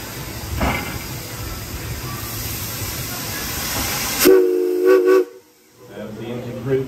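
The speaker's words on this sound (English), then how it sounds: "the engine crew blew the whistle twice" A heritage steam train whistle at a theme park railroad sounds in two steady blasts over rumbling rail noise and hiss, followed by a brief quiet.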